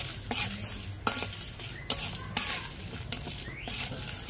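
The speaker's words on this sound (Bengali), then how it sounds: "মশলা থেকে খুব সুন্দর একটা ভাজার গন্ধ বেরিয়েছে আর ভাজাও হয়ে গেছে।" Whole spices dry-roasting in a pan for a chicken cutlet masala, with a pinch of salt added, stirred briskly so a spoon scrapes and clinks against the metal in irregular strokes over a soft, steady sizzle.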